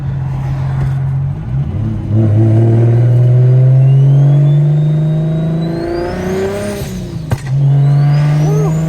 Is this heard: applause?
no